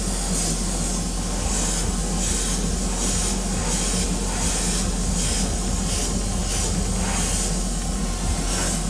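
An airbrush sprays base coat onto Greek-style vases in a continuous loud hiss with subtle rhythmic pulses, uninterrupted and without any voices.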